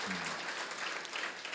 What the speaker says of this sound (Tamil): நல்ல சந்தோஷமா கைத்தட்டலாம் ஐயா